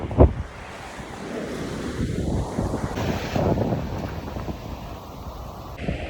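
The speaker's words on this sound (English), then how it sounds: "the ocean." Ocean waves roll and wash ashore in a continuous loud surf roar, mixed with gusty wind buffeting the microphone, with no one speaking.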